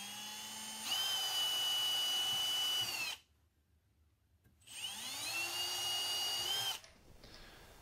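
A power drill pre-drilling holes for furniture assembly, two long high-pitched whining runs of about two and a half seconds each separated by a quiet pause, close and alone.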